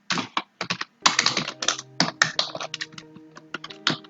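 Fast typing on a computer keyboard while writing HTML code, with irregular bursts of crisp, close key clicks and short pauses, no talk.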